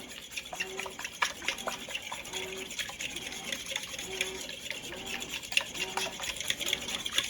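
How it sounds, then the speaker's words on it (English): Eggs being scrambled in a bowl for a fried chicken dinner, a steady wet whisking and tapping rhythm close by, with a faint repeating tone in the background. "I'm going to scramble up my eggs in here"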